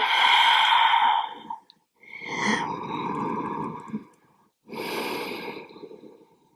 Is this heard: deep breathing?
yes